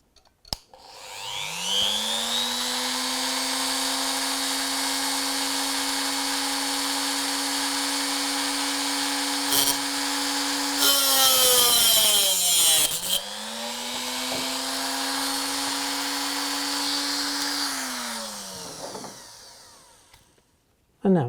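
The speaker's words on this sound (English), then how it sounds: "it's back to our old friend, the Dremel with a slitting disc." A Dremel rotary tool fitted with a slitting disc cuts into model railway baseboard material, its high whine ramping up at the start, holding steady under load, briefly dipping and restarting midway, then winding down; loud and close, with no talk.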